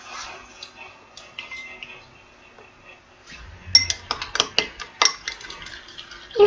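A utensil stirs orange pigment into melted soap base in a glass container, making soft scraping at first and then a run of bright clinks and taps at close range.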